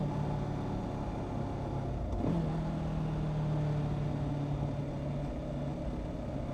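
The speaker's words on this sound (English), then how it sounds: "Those were like two of the best rev matches I think I've ever done right there" A Kawasaki Ninja 500 motorcycle engine rev-matches on downshifts, a constant loud engine drone with a sharp blip midway followed by a held, steady revving tone under wind rumble.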